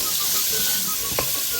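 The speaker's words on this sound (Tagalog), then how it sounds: "stir fry the one whole big large onion slice" One large sliced onion stir-frying in butter in a pan gives a steady, close, bright sizzle and hiss, with a brief scrape of stirring partway through.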